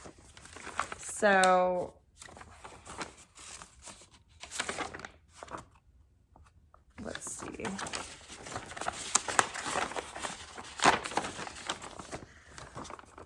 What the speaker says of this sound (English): Love rustling paper on a podcast.